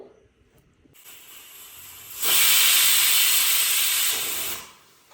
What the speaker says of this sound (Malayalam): നമുക്കിത് കുക്കറിൽ വേവിക്കാൻ വെക്കാം